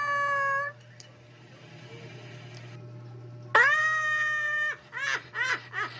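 A hungry cat meows loudly and plaintively up close, one drawn-out cry at the start, a long wavering meow midway, then several short, rapid meows at the end.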